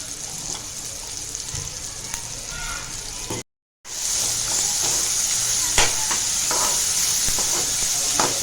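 Green chili paste with turmeric sautéing in hot oil for a dry cluster bean dish, a continuous hiss and sizzle with occasional stirring scrapes and clinks, briefly cut off midway, close and fairly loud.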